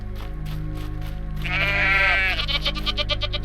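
A goat bleats in the video game I Am Jesus Christ, a brief wavering cry rising over a steady low hum and repeated soft background sounds.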